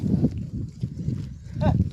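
A cow out in open farmland makes low, close grunting and lowing sounds in a few uneven bursts, with a short rising call near the end.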